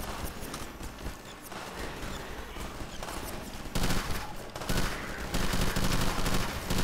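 Combine-style gun from Gasmask's Armory Redux mod firing in Garry's Mod, a dense run of rapid loud shots with a sharper, louder burst in the second half.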